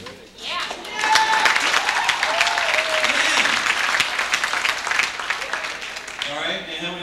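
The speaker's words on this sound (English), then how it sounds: "How many people, by round of applause, have fallen in love?" A pageant audience breaks into sustained applause, dense clapping mixed with cheers and scattered voices, loud and steady for several seconds before tapering off.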